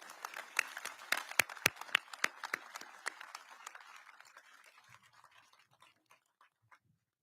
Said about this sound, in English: Please join me in a round of applause for the Rosel and McClone family.